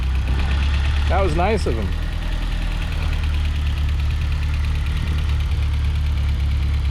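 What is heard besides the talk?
1990 Fiat Uno Turbo engine started and idling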